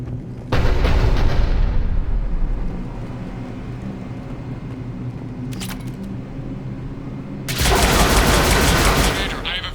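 Gunfire and heavy cannon fire in the video game Mass Effect 3, a dense continuous barrage with loud bursts at the start and again near the end, no voices.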